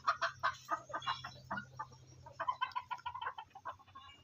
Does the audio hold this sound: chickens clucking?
yes